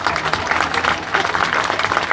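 Audience applause at a bird show in a German bird park, dense steady clapping from a crowd, moderately loud and continuous for the whole moment.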